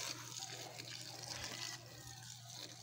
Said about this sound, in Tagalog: Kaya medyo mahina po yung tubig.